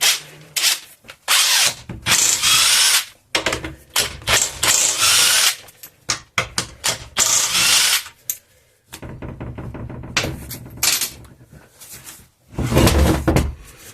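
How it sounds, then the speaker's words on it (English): An impact wrench removes gearbox mount bolts on a Ford Powershift gearbox in loud, repeated hammering bursts of a second or two each, separated by pauses, clanks and handling knocks, very close. "I can use the impact wrench for that."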